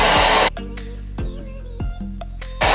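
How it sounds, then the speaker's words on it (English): A hair dryer blows with a loud whooshing roar at the start and end, muffled in between with short bursts of airflow. "I bring the blow dryer down"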